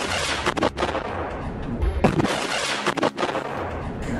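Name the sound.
mortar and artillery fire in attack footage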